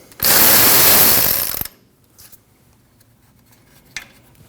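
Ratchet working a 12mm nut loose on the alternator of a 2012-2021 Nissan NV2500 5.6L V8: one loud, dense burst of rapid ratcheting clicks lasting about a second and a half, followed by quiet with a couple of faint clicks.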